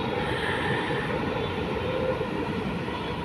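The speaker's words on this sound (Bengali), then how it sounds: "যে আরেকটা আসতেছে মেট্রো ট্রেন, একটা যাচ্ছে আরেকটা আসতেছে" A metro train passes near Mirpur metro station in Dhaka at night in rain, a loud steady rumble and roar filling the whole moment without pause.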